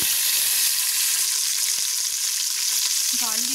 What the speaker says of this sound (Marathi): मागीर तितून एड करपा हांव माझी गार्लीक करी लिव्स आनी ग्रीन चिलीज.